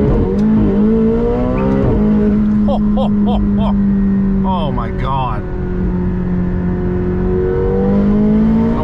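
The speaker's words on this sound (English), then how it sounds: "Those turbos kick in." An 850 HP supercar accelerates hard as its turbos kick in, with a loud, steady engine drone rising in pitch throughout. A voice exclaims over the engine noise.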